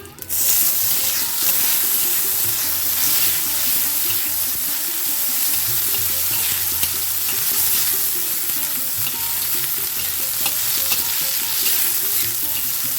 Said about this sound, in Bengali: এবার আমি মটরশুঁটিগুলো দিয়ে দেবো